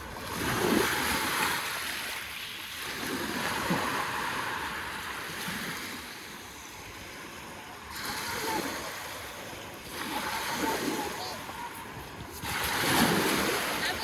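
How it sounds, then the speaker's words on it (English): Ocean waves roll onto a beach on a summer day in steady surges of broad, hissing wash, with wind noise and occasional voices in the background. "Watch, the waves will come."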